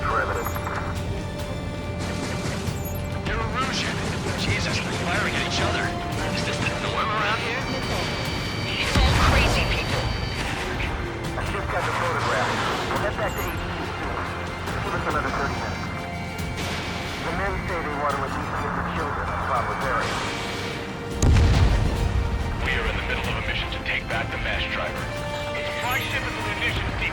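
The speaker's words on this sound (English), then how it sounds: "they're firing at each other" Gunfire and heavy impacts in the Ace Combat 7 video game during an island attack mission, a dense, continuous barrage with two louder booming hits, layered over game music and radio chatter.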